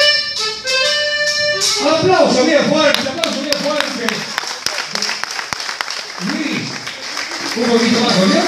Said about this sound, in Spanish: ¡Aplausos, bien fuerte!